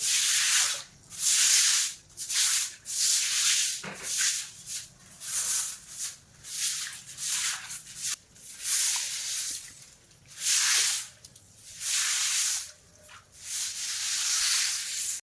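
Broom sweeping and scrubbing a wet balcony floor, rhythmic bristly swishes repeating roughly every second, close and steady with brief pauses between strokes.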